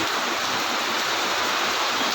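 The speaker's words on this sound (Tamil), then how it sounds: "கனமழை பொழிந்து மழைக்கால மழை போல் பொழிந்து கொண்டிருக்கிறது மயிலாடுதுறையில்" Heavy monsoon-like rain pours steadily in Mayiladuthurai, a dense, unbroken broadband hiss of water falling on surfaces, close and loud with no pauses.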